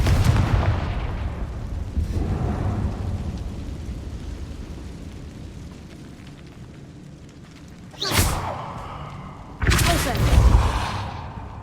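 A Confringo fire blast spell goes off in the Hogwarts Legacy video game, making a booming burst at the start, then a quieter rumble and two more sharp blasts near the end.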